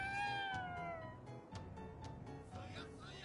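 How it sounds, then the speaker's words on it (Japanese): A cat meows in the video game Ghostwire Tokyo: a clear, rising-then-falling meow at the start, then softer ambient game sounds with a few short clicks, quiet overall. "何あれ、猫？"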